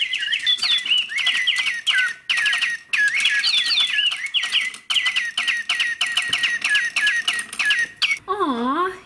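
Rapid electronic bird chirps and trills from toy bird decorations in a garden store repeat in bursts, loud and close, ending with a sweeping warble; a voice is heard briefly.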